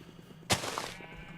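A single bleat from a sheep on a Minecraft sheep farm, sharp at the start and trailing off over about half a second, moderately loud above a faint background.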